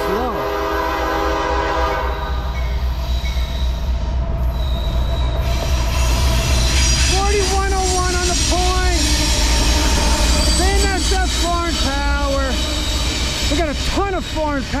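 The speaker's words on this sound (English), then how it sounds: "Another Norfolk Southern. Oh, we got foreign power. We got a pumpkin. He's going slow." A slow Norfolk Southern freight train led by BNSF locomotives rolls past close by, with loud continuous rumble and repeated high wheel squeals. An early horn blast sounds, and someone talks over the passing cars.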